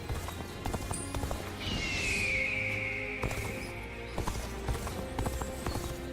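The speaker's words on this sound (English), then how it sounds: "Riding horse allows you to move quickly." Horse hooves clip-clopping at a quick riding pace in the video game Dynasty Warriors: Origins, with a steady rhythmic patter of hoofbeats and a brief whooshing sweep partway through, moderately loud and without talk.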